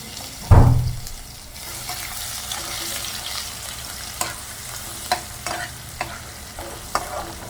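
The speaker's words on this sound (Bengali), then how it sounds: "রসুনটা ভালো করে নেড়ে ছেড়ে দেবে" Crushed garlic sizzles in hot oil in a kadai alongside bay leaf, starting with a sharp crackling burst as it hits the oil, then a steady fry with light scraping clicks from stirring, close and without speech.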